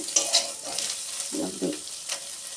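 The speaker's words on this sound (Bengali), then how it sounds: "গাজরটা আরেকটু ভাজা ভাজা করে ভাল ভেজে নেব" Carrots and vegetables sizzle and crackle in a hot pan while a spoon scrapes and stirs, with soft clinks of utensil against metal.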